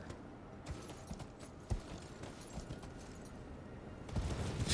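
A horse's hooves gallop in Elden Ring, a rapid irregular clatter of thuds under a busy game soundscape, swelling louder near the end.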